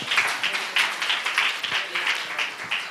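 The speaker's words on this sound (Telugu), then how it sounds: "క్లాప్స్ కొట్టి అందరూ ఆహ్వానిద్దాం" A congregation at a children's Sunday church service claps to welcome a Bible reader, a steady patter of many hands with rhythmic surges, fairly close, with faint voices under it.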